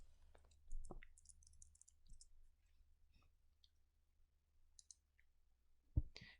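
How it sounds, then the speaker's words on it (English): A password is being keyed on a computer keyboard in a quiet room: sparse, soft, separate clicks with long gaps between a few sharper taps. "Key in the password."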